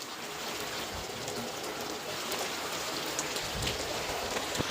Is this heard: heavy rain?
yes